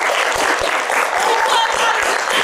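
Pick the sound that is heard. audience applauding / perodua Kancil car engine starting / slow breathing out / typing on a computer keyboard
audience applauding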